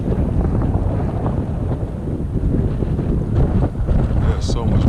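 Strong spring wind buffets the microphone beside the Trinity River in Fort Worth, Texas, a loud, gusting rumble that surges and eases throughout, with someone talking in between.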